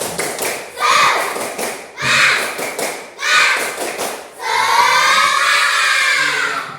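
Children in a classroom clap a rhythmic Indonesian spirit chant in bursts, with loud thumps and claps in groups, ending in a sustained burst of young voices shouting together.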